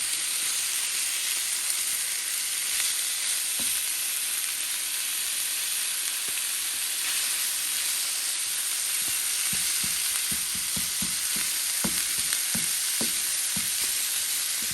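Taco meat frying in a pan gives a steady broad sizzle throughout, with occasional soft scrapes and taps of stirring near the end; no talking.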